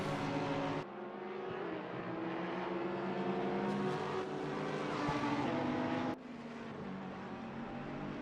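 Mercedes and BMW race cars battling in Gran Turismo during an Italian V-Prix round, engines droning loud and steady with shifting pitch and a sharp gear change near the end, no voices over it.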